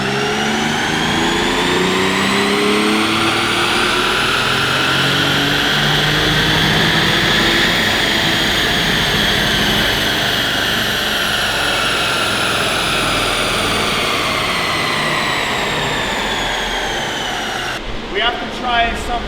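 A car with a 12-valve engine makes around 240 horsepower on a dyno, revving loud and steady as the pitch climbs and then falls back, with a brief drop and clatter at the end.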